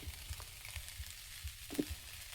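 Rice dry-roasting in a pan, giving a faint, steady crackling sizzle with soft periodic scraping strokes and one brief sharper clink, heard close and alone.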